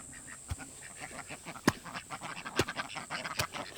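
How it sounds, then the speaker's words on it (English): Indian runner ducks on a backyard farm give a run of scattered honking quacks at close range, with several sharper, louder calls standing out over the flock's continuous chatter. "These ducks here are Indian runners"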